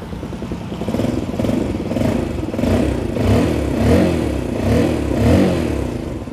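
A 2021 Yamaha Sirius motorcycle engine idling close by, a steady chugging rumble that swells in gentle pulses, loud and with no voices.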